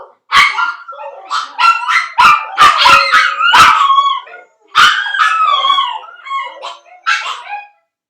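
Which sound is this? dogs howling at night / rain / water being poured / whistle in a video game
dogs howling at night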